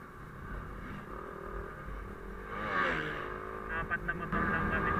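Four motorcycle engines, including Yamaha Aerox scooters, idle and rev nearby before a group ride, rising briefly in pitch, with a voice talking over them.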